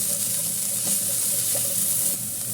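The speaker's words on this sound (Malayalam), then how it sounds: "പിന്നെ പൊങ്ങ് എപ്പോഴും നമ്മളിതുപോലെ വറുത്തെടുക്കുമ്പോൾ" Grated coconut sprout (pongu) fries in a pan for a sweet payasam, a loud, continuous close-up sizzle and hiss that stays even throughout.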